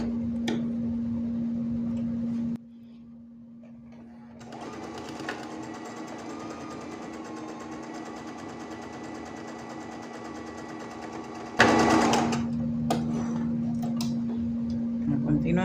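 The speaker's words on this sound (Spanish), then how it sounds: "Vamos a coserlo derecho con derecho, costura recta." A sewing machine stitching a straight seam on a gathered blouse, running steadily with a fast, even mechanical chatter over a constant hum, briefly stopping and restarting, while a voice talks.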